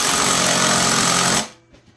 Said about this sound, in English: we're going to torque this 3/8 bolt down to a lot